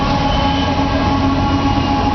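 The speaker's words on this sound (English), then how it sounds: "I'm sitting out here on my front porch waiting for this train to go by" A train rolls steadily past on the tracks beside a front porch, a loud, continuous, close rumble with a dense low roar and no breaks or speech.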